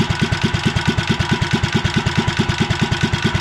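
A REO Trikeabout engine idles slow and steady at about 550 RPM, each firing pulse thumping out in a close, even chug with no voices over it.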